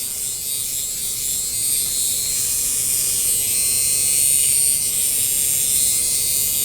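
A steady, close electric buzz from a hair-removal device runs continuously without a break, loud and unchanging, with no talking.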